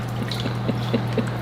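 Coolant drips from a car in a garage, landing as soft repeated plops about every quarter second over a steady low hum.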